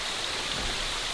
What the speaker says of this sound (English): we have a nice waterfall slash cascade